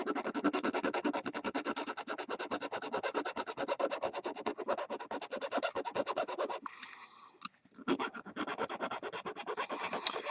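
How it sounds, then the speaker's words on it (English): Miniature rat tail file rasping against a SIG P320 21-round metal magazine, a steady dense run of quick back-and-forth strokes close up, pausing briefly near the end before resuming. "I like to use this nice little miniature rat tail file that I got from, I think it's probably Lowe's, you know, a little kit"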